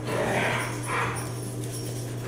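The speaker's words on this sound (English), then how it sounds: "Excuse my huskies. They're having fun." A husky and a corgi bark and yelp at home in two short bursts, fairly near, over a steady low hum, with no talking during the barks.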